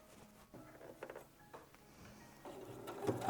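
Sewing machine stitching the sleeve seam of a reversible upholstery-fabric jacket, a quiet uneven whirring in short bursts with handling noise, growing louder toward the end.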